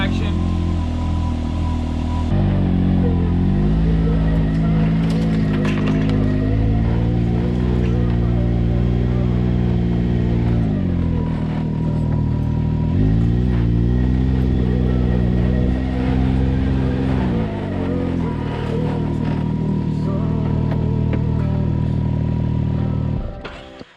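A Can-Am off-road vehicle engine starts cold and then holds a loud, steady, throbbing idle for over twenty seconds, its pitch shifting slightly a few times before cutting off at the end.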